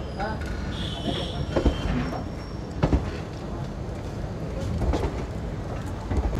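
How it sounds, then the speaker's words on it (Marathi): Train pulling out of Kolhapur railway station on the Koyna Express, with broadband rumble, scattered clanks and knocks, and voices talking nearby throughout. "आपली ट्रेन कोल्हापूर रेल्वे स्थानकातून निघाली आहे"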